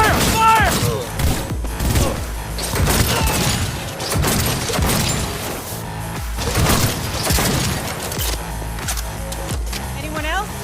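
Gunfire from the video game Cyberpunk 2077 crackles in dense bursts and thuds, mixed with music and other game effects while voices talk over the action.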